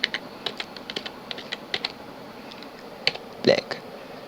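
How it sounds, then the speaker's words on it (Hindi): Typing on a computer keyboard gives a string of crisp, close key clicks in an uneven rhythm, with a slightly louder cluster of presses near the end and no talking over it. "तो हम यहाँ टाइप करते हैं ब्लैक"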